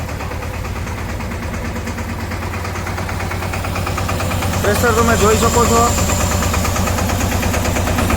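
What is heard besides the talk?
tractor-mounted spray pump running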